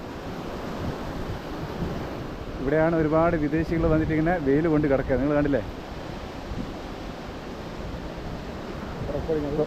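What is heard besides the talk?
waves at Kovalam beach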